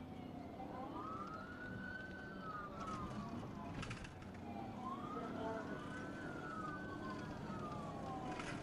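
A police car siren wails in long rising and falling sweeps during a highway pursuit, heard faintly from inside a moving patrol car under steady road and engine noise.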